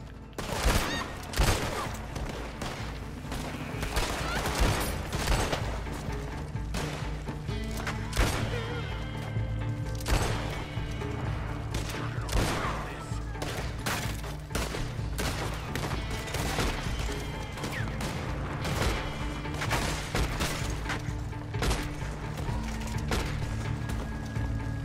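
Gunfire rattles through a Red Dead Redemption 2 Online shootout, with dense, continuous bursts of shots and sharp cracks layered over a busy game soundscape for the whole stretch.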